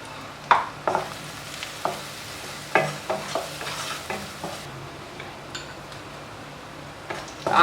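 Sliced onions frying in a pan for Telugu coriander rice, with a steady close sizzle and a few sharp scraping stirs and spatula clatters spaced through it.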